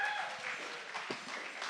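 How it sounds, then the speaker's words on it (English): Faint audience applause for guests at a tech event, a soft scattered patter heard at a distance with a brief whistle-like tone near the start. "Can I get a massive applause for our guests tonight for giving up their time?"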